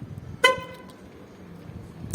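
A single short car horn beep sounds close by from a 2011 Skoda Fabia locking, followed by quiet background hum and a faint click at the end.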